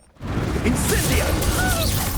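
An Incendio fire spell cast in the Hogwarts Legacy video game bursts in after a brief hush, then holds as a loud, steady rushing roar with swishing, crackling texture for about two seconds.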